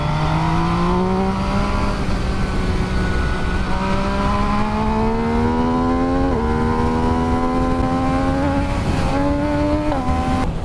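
Triumph Street Triple RS sport bike engine revving hard, its quickshifter auto-blipper firing sharp throttle blips on downshifts; a loud, steady howl that repeatedly steps up and falls back in pitch, close up, with no talk over it.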